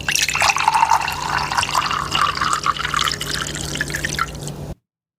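Cold water poured into a cup, a steady continuous pour with a rising trickling fill sound, close and fairly loud, running alone for almost five seconds before stopping abruptly.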